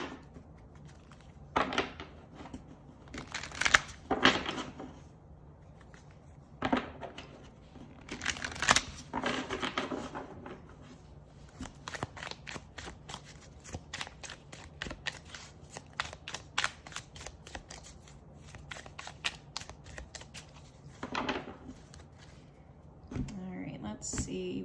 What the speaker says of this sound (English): We'll do 3 quick shuffles.